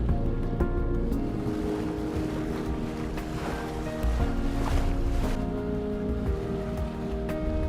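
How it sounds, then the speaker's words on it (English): A sailboat motors under engine power across a calm fjord in windless conditions. There is a steady, continuous engine drone with water and hull noise, and no one is talking. "With no wind, I was forced to cross Sletta towards my goal by engine."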